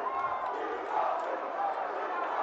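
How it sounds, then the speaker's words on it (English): A large crowd shouting together in the National Assembly lobby, a dense, sustained roar of many voices with no gaps, fairly close and loud. "The shout of "We don't win" is what is happening out there."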